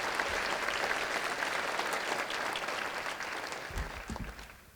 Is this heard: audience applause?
yes